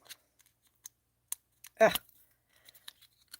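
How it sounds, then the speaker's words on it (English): Adhesive foam dimensionals have their backings peeled off in a craft stamping setting: one short, crisp tearing rip in the middle, with small faint clicks and paper ticks scattered before and after. "Peel off the backings."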